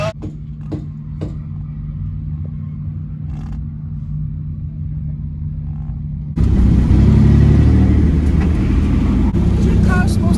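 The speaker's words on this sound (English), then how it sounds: "Is your car supposed to clank?" A Chevrolet-Subaru hybrid car's engine rumbles loudly at steady idle, then surges into a harsh, louder revving roar midway through while drifting, close and continuous.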